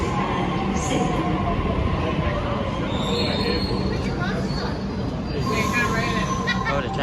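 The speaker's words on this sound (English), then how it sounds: "this Waratah is now departing" A Sydney Waratah electric train pulls out of Circular Quay station, its steady rolling rumble and high wheel squeal carrying on at close range throughout, with platform hubbub and voices mixed underneath.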